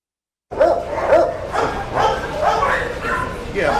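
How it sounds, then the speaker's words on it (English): A dog gives a run of short, yipping barks and whimpery bow-wows, close and fairly loud, repeating in an uneven rhythm over a busy outdoor background. "you see this dog here is not agitated at all"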